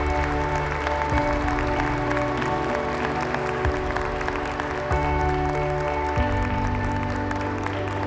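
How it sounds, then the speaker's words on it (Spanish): Wedding guests in El Paso applaud the newlyweds at the end of the ceremony: steady, sustained clapping from the gathered crowd that carries on throughout, mixed with sustained tonal music in the background. "nos alegramos con ellos dándoles un fuerte aplauso"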